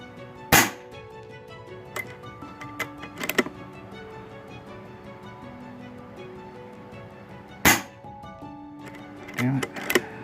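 Sharp, isolated cracks from an FX Wildcat MK1 air rifle firing at a range, about four distinct shots spaced irregularly with quiet gaps and a faint background hum between them.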